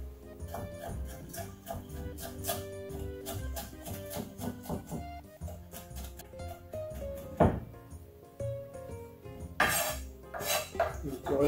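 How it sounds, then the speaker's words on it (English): Garlic being chopped with a knife on a board in a home kitchen while a steak braciole is prepared, with quiet, irregular taps and clinks and occasional louder scrapes, no talking. "chop up some of this garlic"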